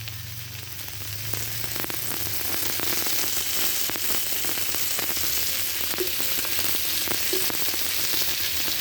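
White oil hissing in a hot pan, with mankochu (arum) and crab, a steady dense sizzle that swells after the first second and continues close and fairly loud with small crackles.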